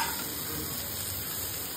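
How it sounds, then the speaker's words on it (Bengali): Soybean chunks and vegetables frying together in a pan make a brief, steady sizzling hiss at moderate volume with faint stirring texture. "তো সব কিছু আমি একসঙ্গে ভালোভাবে ভেজে নেব।"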